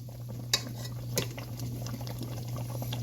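A pot of sauce simmers on a stove over low heat while a spoon stirs it, with two soft knocks against the pot over a steady low hum and faint bubbling, and no one speaking.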